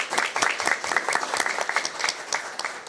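A council meeting audience gives a sustained round of applause honoring women veterans, many hands clapping thickly and evenly for about three seconds without speech.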